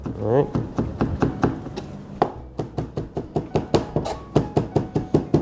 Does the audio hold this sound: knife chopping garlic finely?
yes